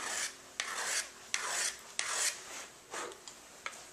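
Hand scraper being drawn across a hardwood floor, a series of close, loud rasping strokes with short pauses between them.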